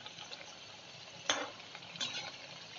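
Food fries in a pan over medium gas heat, a soft, steady sizzle with a couple of brief louder spits as pieces are flipped, quiet and close with no talking.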